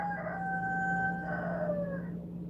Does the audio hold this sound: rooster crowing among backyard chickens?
yes